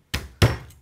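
Two sharp, loud thunks a moment apart as a garlic clove is smashed flat on a cutting board, close up with nothing else in the background.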